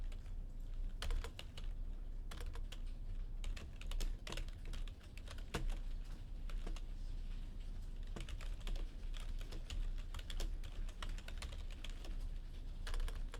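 Steady computer keyboard typing runs throughout, with dense key clicks and occasional louder strikes, likely the Enter key, over a constant low background hum while a research paper is being written.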